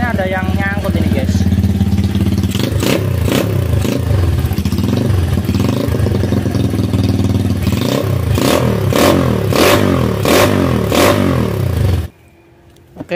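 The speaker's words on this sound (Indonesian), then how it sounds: "ini kita naik motor CB 125 SE bro" Honda CB 125 SE motorcycle engine running loud and close with a steady rattle from the starter, rhythmic clattering bursts over the idle before it cuts out near the end.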